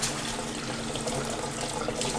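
Steady running water from a tap pours over a dog harness being rinsed in a sink, a continuous close splashing rush with no speech.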